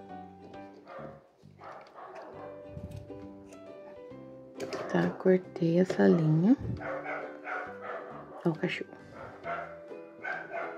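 A dog barks and whines intermittently in the background while someone speaks Portuguese over the sound of sewing an amigurumi lion, with a louder, more drawn-out burst midway.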